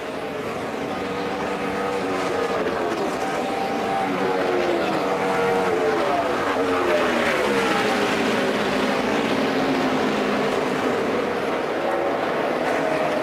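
NASCAR Sprint Cup race cars run the final lap at Homestead, a loud, sustained engine roar whose pitch sweeps up and down as the cars pass, over constant track ambience.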